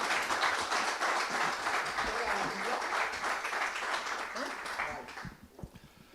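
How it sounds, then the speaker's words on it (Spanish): Applause for an author at a historical novel festival in Cartagena, a broad, steady hall-wide clapping from a seated audience that holds for several seconds and then fades out near the end. "Vamos a darle un fortísimo aplauso a Antonio Pérez Henares."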